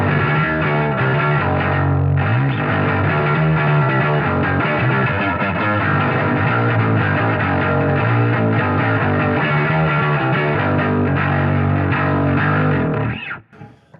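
An electric guitar is played through a Traynor TS 60B amp with every knob turned fully up, giving a thick, loud, fuzzy distortion. Chords ring out continuously for about thirteen seconds, then cut off abruptly.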